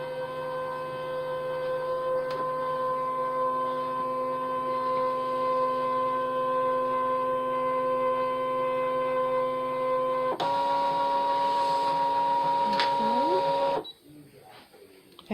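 Brother ScanNCut cutting machine scanning a design, a steady mechanical hum with tonal whine that shifts pitch near the end before stopping abruptly, heard alone and close.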